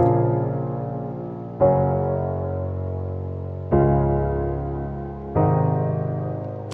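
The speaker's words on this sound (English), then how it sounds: "It's a 4-chord progression, and it sounds a bit like this." Four sustained piano chords are played one after another in a simple progressive house progression, each struck cleanly and left to ring and decay before the next, slightly strummed and close.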